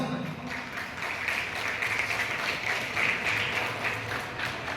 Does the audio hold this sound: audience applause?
yes